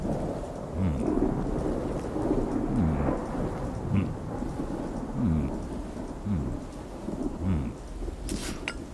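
Thunderstorm weather in the video game Oknytt: steady rain hiss under repeated low rolling thunder rumbles, moderately loud and continuous throughout, with no voices.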